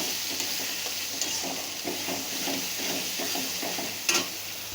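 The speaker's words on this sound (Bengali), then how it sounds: "দিয়ে দেবো কালো জিরে গুঁড়োটা, দিয়ে ভালো করে মিশিয়ে নেব।" A utensil stirs shrimp paste with black cumin powder in a pan, producing soft rhythmic scraping over a steady faint sizzle, with one sharper clink near the end.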